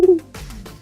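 A voiced bird-like call imagined as a dinosaur's sound, a short low coo-like note followed by softer hooting tones, close and alone.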